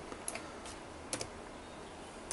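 Several quick, quiet keystrokes on a computer keyboard, a few scattered clicks close by against a faint background hiss.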